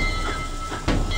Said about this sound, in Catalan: El tren s'acosta a un túnel